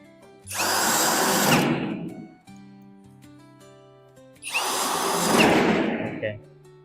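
A power drill drives screws into the pre-drilled holes of a two-door wardrobe panel in two long, loud whirring bursts, with a quiet gap between them.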